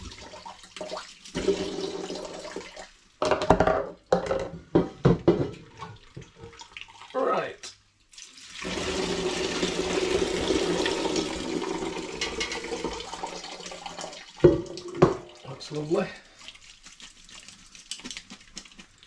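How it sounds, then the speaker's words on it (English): Citrus lager wort full of hops is poured through a colander sieve, making a steady gushing, splashing stream at close range, with knocks and clatters of the equipment before and after the main pour. "pouring the hops through the colander sieve, so that the liquid goes through and that I capture the hops"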